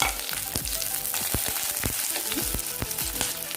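Sliced onions fry in a hot pan for chilli chicken, added after ginger and garlic, giving a steady, close, dense sizzle and crackle with a few soft stirring knocks throughout.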